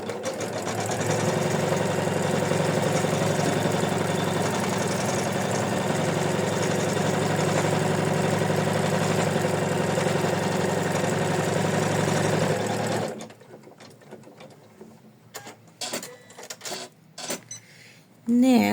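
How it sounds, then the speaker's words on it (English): Sewing machine stitching a leaf placement line and stem onto a felt postcard, a steady close whirring hum running for about thirteen seconds, then stopping, followed by faint handling clicks and a brief burst at the end. "Next, we stitch the placement line of our leaf and the stem."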